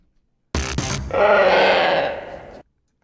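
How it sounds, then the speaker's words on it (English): A harsh, heavily processed crow call: two short rough croaking bursts followed by a long, sustained, distorted moan that cuts off abruptly. "Did you know crows could sound like this?"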